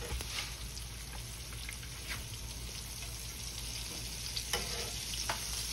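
Old-school jumbo lump crab cakes brown in a hot pan with a constant crackling sizzle, scattered sharper pops and spatters, and no talking over it.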